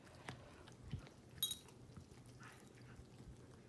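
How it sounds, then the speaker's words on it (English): A dog gnaws on a turkey chew, with quiet, irregular crunching and chewing bites and a faint clink, close but soft, with no talk. "She's just chewing on the end of hers."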